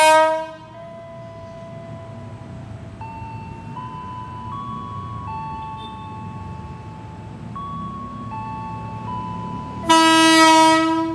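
An airport rail link train arriving at Duri station in Jakarta, with a long, loud, steady multi-tone horn held throughout and shifting pitch partway, then a brighter, louder horn blast near the end over a low rumble.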